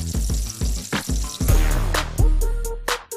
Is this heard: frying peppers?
yes